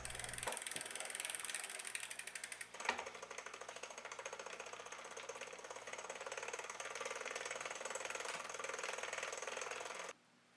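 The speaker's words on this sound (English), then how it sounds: "the pulley is making the noise when it engages with the chain" An aluminum pulley on a singlespeed bike chain tensioner makes a steady, rapid ratcheting click as it engages the chain, continuous and fairly loud for about ten seconds before stopping abruptly.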